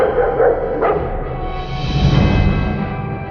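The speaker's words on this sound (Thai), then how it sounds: "ก็ได้ยินเสียงสุนัขที่เลี้ยงไว้ เห่าที่นอกฉาดแล้ววิ่งเข้ามาเห่าในครัว" A household pet dog barks near a kitchen and the open porch outside, giving a few loud, close barks over dense background noise.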